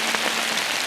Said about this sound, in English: You can see all the sleet coming down.